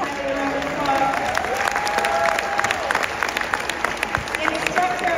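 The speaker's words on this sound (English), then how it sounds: "let's give Anna and Tyler a round of applause" An audience at a dance company's winter recital applauds, a dense, continuous wash of clapping with some crowd noise and brief voices mixed in, loud and sustained throughout.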